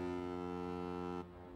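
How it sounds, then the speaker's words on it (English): A diaphone, the thunderously loud organ pipe that coast guards adopted as a foghorn, holds a deep, rich, steady drone before cutting off abruptly into a fading reverberant tail. "invented the diaphone, an organ pipe so frighteningly loud it was used by coast guards all over the world as a foghorn"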